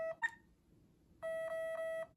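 An iBill money identifier gives electronic beeps: a short pair of tones, then after a pause a steady run of four evenly spaced clear beeps, close and alone against near silence.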